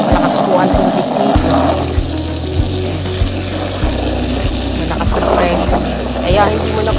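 Strong, steady water spray rushes at a car wash beside a 2010 Honda CR-V, a continuous hissing flow with a low pump hum underneath and a few brief knocks, heard close throughout.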